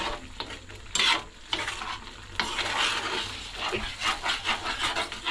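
Mustard seeds sizzle and crackle in hot oil while tempering a chutney for crispy onion vada, with a spoon stirring and scraping the pan close by in an uneven rhythm.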